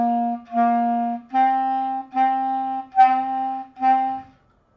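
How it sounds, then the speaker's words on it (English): Beginner clarinet lesson: six separate sustained notes played in a steady pulse, two lower tones followed by four slightly higher ones, each clean and close with brief gaps between, solo with no talking. "So I'm going to play the 4 C's and the 4 D's."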